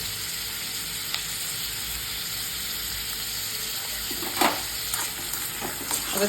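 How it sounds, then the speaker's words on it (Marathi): Green tomato chutney with green chilli, garlic and salt sautéing on low heat, a soft steady sizzle with a few stirring scrapes near the end, quiet and close. "छान परतून घ्यायचं आहे याला मंद वरती"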